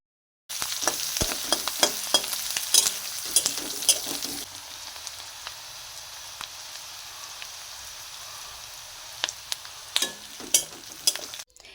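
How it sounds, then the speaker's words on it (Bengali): Prawns dropped into hot oil in a home kitchen, a loud bubbling sizzle at first that settles into a quieter steady fry, broken by clinks and scrapes of a spatula. "তেলে চিংড়ি মাছগুলো দিয়ে সুন্দর করে একটু ভাজা ভাজা করে নিয়ে"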